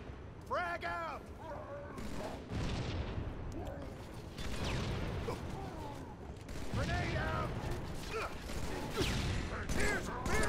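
A frag grenade bursts in Halo 3 during a battle against Brutes on the mission The Storm, a heavy boom set amid steady gunfire and alien voices, with a player talking over the combat.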